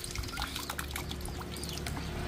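Water draining continuously from a faulty LG top-load washing machine, a steady pouring and trickling flow with splashy detail and a faint mechanical hum underneath, heard close.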